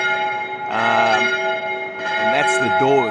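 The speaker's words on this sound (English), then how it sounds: "And the bells are ringing." Church bells ring in Seville with steady, sustained tones that carry through the whole moment, while people talk over them at close range.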